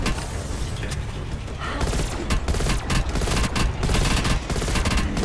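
Dense gunfire in the Call of Duty Black Ops Cold War zombies Outbreak mode, with loud rapid bursts and booms layered over mechanical game effects, continuous and close for several seconds.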